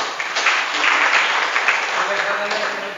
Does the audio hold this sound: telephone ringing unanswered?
no